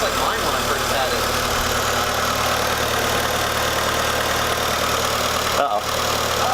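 A Mitsubishi Spyder with a fresh exhaust idles in a steady, loud rumble with a constant engine hum and faint belt whine, interrupted by one brief dip near the end.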